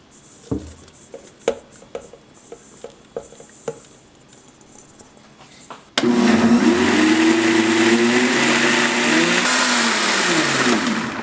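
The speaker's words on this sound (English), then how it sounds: "And we're gonna add it here to the blender." A few scattered taps and knocks, then a blender whirs to life and runs steadily at full power, loud and close, blending coconut for a cake.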